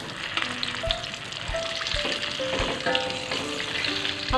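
Battered tilapia fillets frying in hot oil, a steady close crackling sizzle throughout with occasional clinks of a utensil against the pan and a brief rise in the bubbling at the end.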